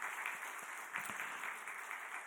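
A church congregation applauds steadily during Sunday morning worship, a dense patter of clapping from many hands that carries on evenly throughout.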